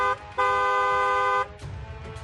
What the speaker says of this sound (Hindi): हॉर्न बजाना जरूरी है।